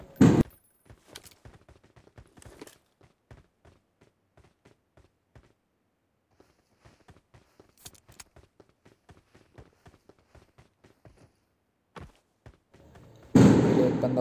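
Rapid gunshots from a battle royale shooter, sharp cracks firing in bursts and scattered single shots across the span, ending in a louder burst of noise.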